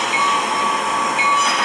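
A locomotive, engine number 95, pulls a train past, giving a loud, continuous rumbling roar with a thin metallic squeal on top and no voices.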